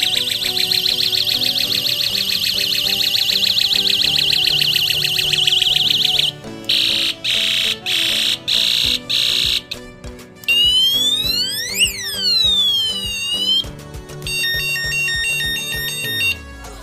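A new electronic bicycle bell cycles through several loud tones: fast trilling chirps, then evenly spaced beeps, a rising and falling siren-like sweep, and a warbling alarm pattern, each played alone.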